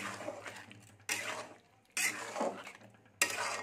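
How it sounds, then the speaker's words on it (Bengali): Homemade ghee being stirred through a potol and egg curry in a pan, with bursts of scraping and clinking from the spoon against the pan separated by short pauses, close and fairly quiet. "দিয়ে ঘেটে দিচ্ছি একটু"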